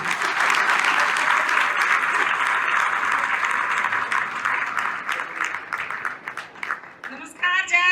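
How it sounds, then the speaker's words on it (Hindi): An audience at an RCM gathering in Noida breaks into loud, sustained applause, a thick wash of many hands clapping that tapers near the end as a voice begins to speak. "एक बार जोरदार तालियां राखी जी के लिए।"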